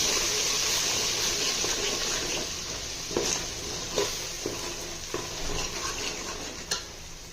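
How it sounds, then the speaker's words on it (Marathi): Spice paste of ground coriander being sautéed in oil in a pan, a soft continuous sizzle with a few light scraping stirs of a spoon against the pan. "हे वाटण चांगले परतून घेऊ"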